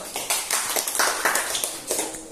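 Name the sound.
class clapping hands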